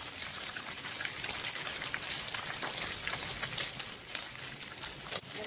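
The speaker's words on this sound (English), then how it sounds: "I'm putting the ikan bilis and fry it in batches like this" Anchovies (ikan bilis) fry in hot oil with a dense, continuous hissing crackle of bubbling and popping, close and steady for a few seconds, with no talking.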